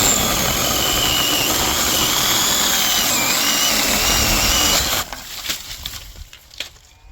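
A mini chainsaw cuts down through a small tree, its buzzing motor loud and close for about five seconds before cutting off, followed by scattered cracks and rustles of the breaking tree.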